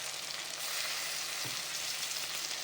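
Okra sizzling steadily in a pan, fairly faint and continuous, with a single soft clunk of stirring partway through and no voices.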